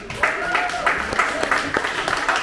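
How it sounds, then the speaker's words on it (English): An audience at a live Melbourne tech startup meetup claps for a presenter, giving a brief, fairly close patter of hands with a few rhythmic bursts. "Please applause for Zach."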